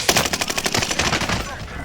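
Rapid bursts of video-game gunfire crackle in quick repeated succession, loud and close, forming an automatic-weapon rattle that thins out near the end.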